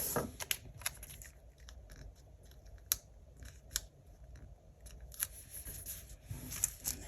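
Scissors snip sticker paper from a sticker book in a quiet series of sharp, close cuts with short pauses between them.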